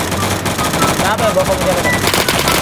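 Rapid automatic gunfire from the Roblox shooter Phantom Forces rattles loudly and almost without pause, packed tight like a sustained burst close by.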